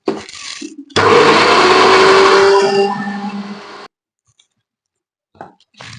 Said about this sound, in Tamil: ஃபர்ஸ்ட் வந்து நம்ம இஞ்சி பூண்டு பேஸ்ட்டை அரைச்சிக்கலாம்.